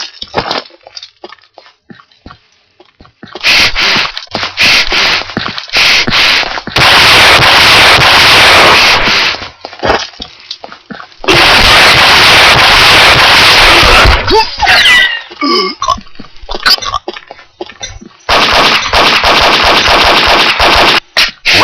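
Desert Eagle pistol fire in the video game Combat Arms, pistol arena mode: loud, dense bursts of rapid shots in long stretches, broken by short quieter gaps with faint background game noise.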